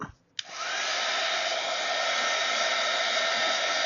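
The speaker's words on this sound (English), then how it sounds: "Grab my little piece here, heat my heat gun up." Heat gun switched on to warm a Kraft-Tex journal cover, a brief click and quiet moment followed by a sudden loud, steady whooshing blast of air that holds constant to the end.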